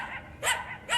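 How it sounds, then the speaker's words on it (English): A dog barks twice in quick succession, sharp and fairly close, with a faint hum in the background. "what kind of bark is that,"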